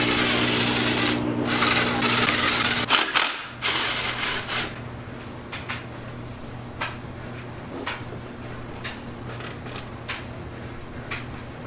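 Ratchet wrench with a 12mm socket cracking loose exhaust manifold bolts on a Nissan G35, a burst of loud clicking and rasping followed by lighter, intermittent ratchet clicks close by with no talk.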